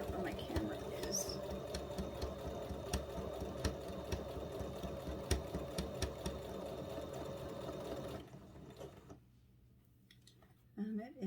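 A sewing machine stitches a fabric cover with a rapid, steady mechanical chatter that runs for about eight seconds, then stops and leaves faint rustles and small handling noises.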